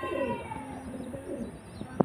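Domestic pigeons kept for sale, a male among them, coo in soft, low repeated calls close by, with a brief sharp tap near the end and no talking.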